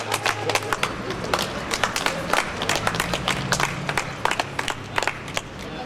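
An audience at an outdoor slam poetry event in Place Fréhel applauds, with dense, continuous clapping close by that holds steady throughout.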